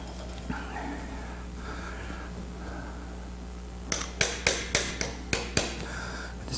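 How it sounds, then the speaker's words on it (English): Mallet strikes in a workshop, a run of about seven sharp, evenly paced knocks close by over a steady background hum, with no talking. "And a mallet."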